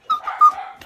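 A dog scared of an apple lets out a brief, close, high-pitched whimper with a short yip, loud and alone.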